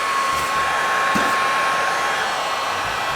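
A Wagner Inferno 750 heat gun blows hot air in a steady, loud, continuous rush, used to soften glue on a Chevy Cruze front bumper trim, with no talking over it.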